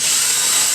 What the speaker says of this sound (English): with my drill I'm just going to drill out a hole through it